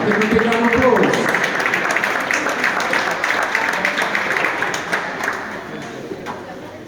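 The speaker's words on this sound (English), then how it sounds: "Give them a big round of applause." Crowd clapping at a Manchester City football development programme graduation, a broad round of applause that starts loud with voices mixed in and slowly tapers off.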